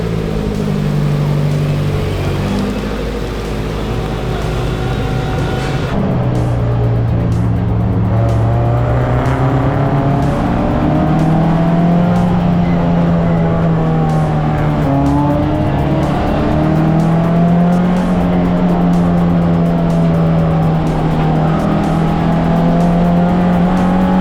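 A 40-year-old Toyota endurance race car drones loudly from inside the cockpit, engine pitch climbing and falling through repeated shifts and throttle changes over a constant road roar.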